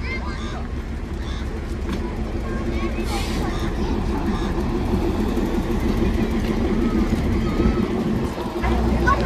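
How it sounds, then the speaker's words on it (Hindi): Mini train engine on the narrow-gauge Bilimora to Waghai line pulling into the station, a steady low rumble and clatter of the locomotive approaching amid platform crowd babble and someone talking. "वो देखो गाइस इंजन आ रहा है यहाँ सामने से, इंजन आ गया है गाइस यहाँ पे जुड़ने के लिए।"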